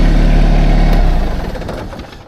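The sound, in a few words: tractor engine running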